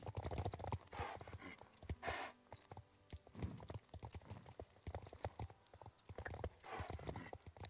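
Horse hooves clip-clop in uneven bursts in the video game Star Stable Online, with faint snorts and a hint of whinnying between the hoofbeats, all fairly quiet.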